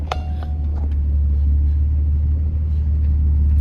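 A 700hp Cummins diesel truck doing a burnout: a heavy, steady low rumble of engine and tires that holds loud and unbroken throughout, with a few brief higher squeals near the start.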